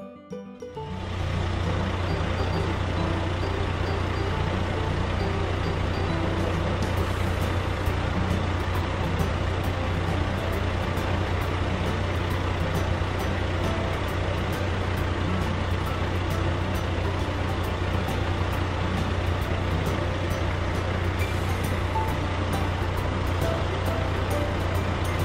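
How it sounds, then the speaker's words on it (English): A mini road sweeper drives past with a steady, loud diesel engine drone and a constant low hum, accompanied by a continuous brushing, roaring wash that holds throughout. "mini road sweeper"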